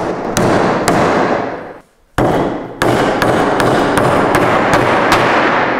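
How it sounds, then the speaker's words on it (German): A Stanley hammer drives a nail with sharp, loud metallic strikes, a few spaced blows, then a brief pause and a quicker run of repeated hits, each ringing over a steady background hiss. "Also ich muss sagen, Nageln macht schon richtig Spaß."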